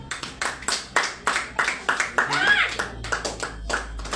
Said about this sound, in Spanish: Un aplauso al Señor, pues.